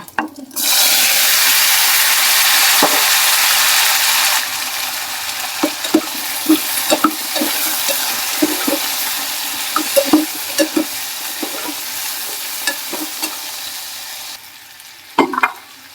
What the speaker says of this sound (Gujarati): આખું જીરું હળદર હિંગ અને લીમડીના પાન પછી નાખી દઈશું આપણે બટેકા